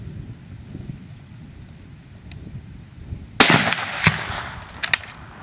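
A Hankins Custom muzzleloader rifle fires one sharp, loud crack at close range with an echoing tail. A couple of smaller pops follow over a quiet outdoor background hiss.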